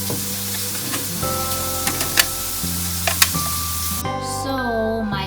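Japanese pepper dolma fries in a pan with a steady close sizzle and hiss, punctuated by a few sharp pops and crackles, with a steady tonal hum underneath and no speech.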